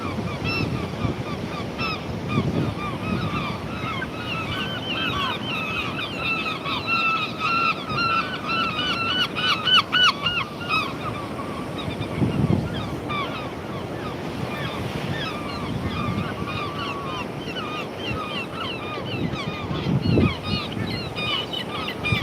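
Geese honk repeatedly by the water in the evening, their calls layered over steady surf and gusting wind, with louder bursts around the middle and end of the stretch.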